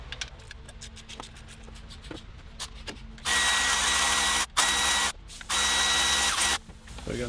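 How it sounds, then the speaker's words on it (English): Power tool spinning out a 12 mm bolt on a 350z power steering pump, sounding after a stretch of light clicks and taps as three loud close whirring bursts separated by short pauses. "the top part is a 12. I'll loosen that up."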